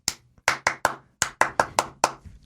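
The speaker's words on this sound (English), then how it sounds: "That was one extra clap" Sharp, close hand claps in an uneven rhythm, about nine crisp claps in quick bursts with short pauses, isolated and loud with no talking.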